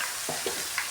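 Potato chips frying in a pan of hot oil, a continuous bright sizzle and hiss with a few soft stirring scrapes, heard close and on its own over one brief moment.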